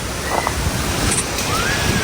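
Strong wind roars during a sudden storm as rain starts, a steady loud rush with gusty buffeting against the microphone and no speech.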